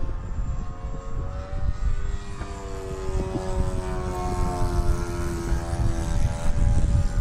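An E-flite SR-71 Blackbird model jet with twin 40mm ducted fans flying at full throttle, a continuous loud whine with tones that shift and sweep as it passes, heard alone.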